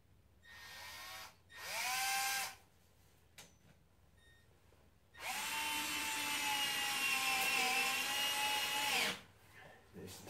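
A power drill drives a screw in two whirring bursts, a short one and then a longer sustained run of about four seconds, winding down at the end, close and fairly loud.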